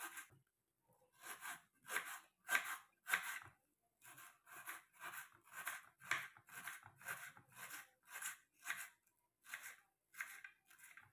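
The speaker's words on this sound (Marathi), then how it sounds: "कांदा बारीक चिरून घेणार आहोत" Knife finely chopping onion on a board, a steady run of crisp, close rhythmic cuts in short bursts with brief pauses, no talking.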